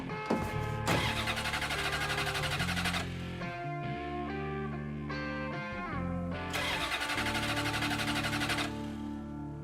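Car engine in Mafia III cranks repeatedly and fails to catch, with a steady mechanical drone throughout and bursts of bright crackling noise at the start and near the end, heard over game music.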